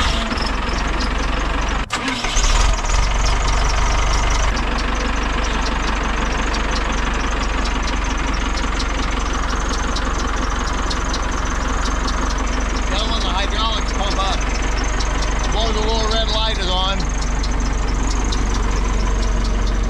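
A Lowell telehandler engine runs steadily during a test after repair work, a continuous mid-pitched drone with a brief interruption early on and some higher whining and clatter later, with people speaking over it.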